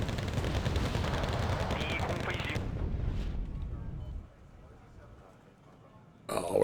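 A Basilisk unit in Wargame: Bear vs Dragon fires in loud, rapid gunfire bursts mixed with heavy booms, then fades into a quieter lull before a sharp new crack at the end.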